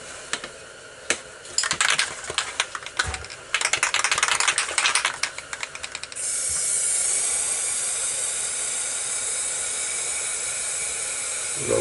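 An aerosol spray paint can hisses out light blue paint in short bursts at first, then in one long steady spray to the end. Faint tapping and rattling come through under the spray.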